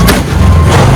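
A single Diwali firework shot goes off with a loud, close, booming thud that fills the whole moment.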